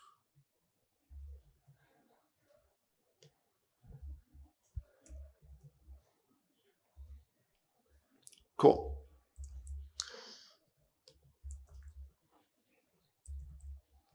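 Sparse computer keyboard clicks come in short, irregular bursts at a quiet desk during a game VFX concept workshop, with long pauses between presses and a brief spoken word partway through.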